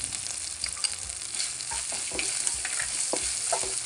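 Ginger-garlic paste frying in hot oil for a small-fish curry, a steady close sizzle with repeated scraping stirs of a spoon across the pan and no talking.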